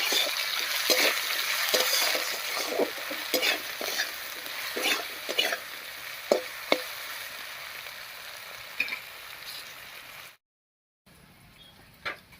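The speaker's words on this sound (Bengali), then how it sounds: "এবার আলুটাকে একটু ভাজা ভাজা মতো করে নেব" Potatoes sizzle steadily in a pan as a spatula scrapes and stirs them repeatedly, the frying hiss continuous, then a brief silence near the end.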